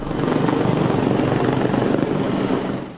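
A Government Flying Service helicopter carrying a man stung by bees to hospital, its rotor drone loud, close and steady throughout without pause.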